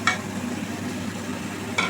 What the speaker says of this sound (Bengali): দিয়ে 2 মিনিটের মতো কষে নিতে হবে।